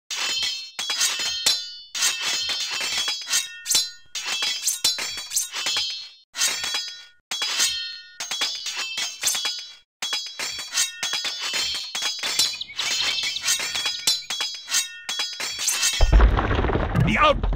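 An outpost building under attack in Age of Empires 2: repeated clinking, glassy strikes and metallic clangs come in rapid bursts separated by short pauses, ending in a loud, noisy crash as the structure collapses.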